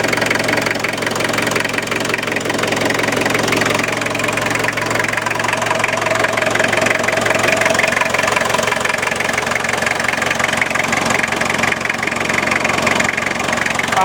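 An old-school 2.2 litre diesel engine with an injection pump idles roughly and loudly, a steady knocking clatter that runs unbroken and close throughout.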